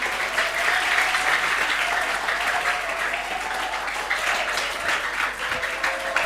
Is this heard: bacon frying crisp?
no